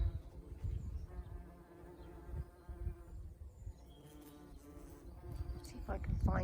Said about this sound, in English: Bees and honeybees